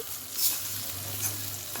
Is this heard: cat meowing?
no